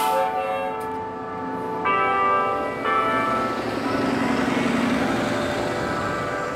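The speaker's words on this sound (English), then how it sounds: "Church bells." Church bells ring out in overlapping peals from a church near Southwest Corridor Park in Boston, several tones layered together, fairly loud and sustained against a low background rumble.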